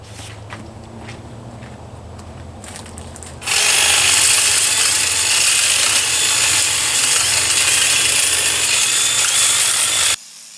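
Makita telescoping, articulating pole hedge trimmer saws through a bush, starting after quiet rustling and running as a loud, steady buzzing chatter of reciprocating blades for about seven seconds before cutting off.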